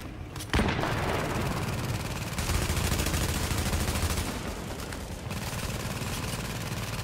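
Dense, loud bursts of automatic gunfire and explosions from a shooter video game set in an apartment building, The Division, firing almost continuously after a sharp opening crack, with no talking.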